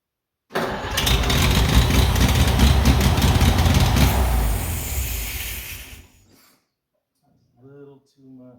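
An Oliver 70 tractor engine cranks, catches and runs loud and close for about five seconds with a rough, steady roar, then shuts off, after which someone speaks briefly.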